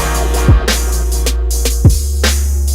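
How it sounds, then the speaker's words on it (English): A guitar stab sample sits in a hip hop beat, with sharp accented hits landing over a deep bass line and punchy drums in a short looping pattern. "Then the next thing I did was I added a guitar stab. That sounds like this when you add it in."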